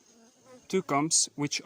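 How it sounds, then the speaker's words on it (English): Hybrid African bees buzzing during a colony removal, a faint insect drone under a burst of nearby speech. "So right now we are going to scoop the bees."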